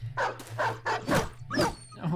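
In the Battle Brothers video game, a dog barks about five times in quick succession, close and fairly loud, with a low hum underneath.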